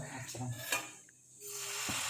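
Vellappam batter cooks on a hot pan with a soft sizzle and a few light clinks of utensils, fairly quiet and brief.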